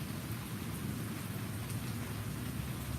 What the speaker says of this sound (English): It is a dark and stormy night here in Texas.